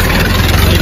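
A tractor engine runs close by with a steady low idling drone and a continuous hiss, heard alone over a very brief stretch at night.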